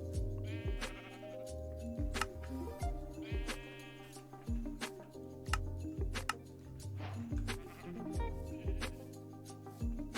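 Sheep in the Minecraft video game bleat over and over, their wavering calls overlapping and stacking densely on top of a busy layer of game sounds and clicks, loud and close with no pause.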